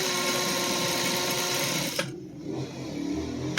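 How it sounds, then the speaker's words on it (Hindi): A sewing machine stitches a buckram-lined shalwar hem with a loud, steady motor whir for about two seconds, then halts abruptly into near quiet. "और ये अब इसकी सिलाई शुरू कर देंगे दोस्तों"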